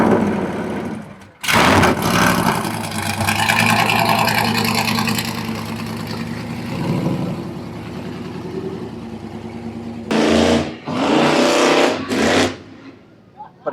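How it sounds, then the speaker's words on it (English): A monster truck engine with 4-in-1 collector exhaust dumping straight out the side fires up and runs, a loud rumbling roar with sharp bursts of throttle near the end before dropping off. "look at this exhaust, guys. 4-in-1 collectors dumping straight out the side. I can't wait to hear this thing."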